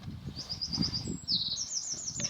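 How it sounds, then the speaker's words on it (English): A lively bird tweets in fast repeated runs of high chirps throughout, fairly close and clear over a low background rumble, with no talking. "Very tweety bird."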